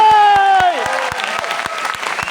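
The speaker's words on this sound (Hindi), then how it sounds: "दम है तो मुस्कुरा के ताली बजा लो।" An audience at a crowded indoor event in Delhi breaks into clapping, a short burst of close, loud applause that begins as a speaker's voice trails off and continues on its own.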